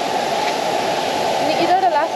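The Thirparappu waterfall, a steady loud rush of flowing water, with a brief voice speaking near the end.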